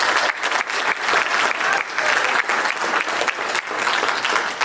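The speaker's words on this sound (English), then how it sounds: "please give Mary a huge round of applause" Homeowners at an association meeting give Mary a round of applause, brisk, close clapping that swells and holds steady for several seconds.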